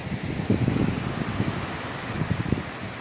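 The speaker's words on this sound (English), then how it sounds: "I just want you to hear the wind." Strong outdoor wind blows in gusts, a steady broadband rush with buffeting low thumps against the microphone, and no voices.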